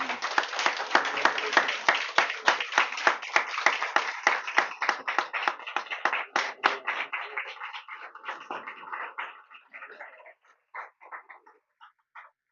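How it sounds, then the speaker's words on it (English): Sustained clapping from a crowd at an award ceremony for Juneteenth honorees, dense and steady at first, then thinning out into scattered claps before fading. "let's give one final round of applause to all of these amazing award recognitions"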